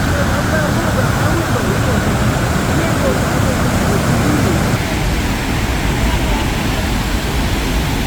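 Rushing water swirling through a rocky canyon in Jasper National Park, a loud, steady broadband roar that continues unbroken throughout, with no distinct pauses or separate events.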